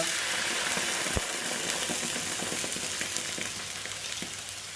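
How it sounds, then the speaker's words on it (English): Wine sizzles and bubbles in a pan with pheasants, a busy, close crackle with occasional pops and clicks that eases slightly toward the end, no voices. "I'm just going to put some wine on the pheasants now."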